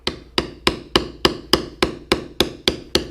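A tool tapped lightly while carving leather gives about eleven crisp, even strikes, each with a short ringing decay, in a steady rhythm close by with no talk.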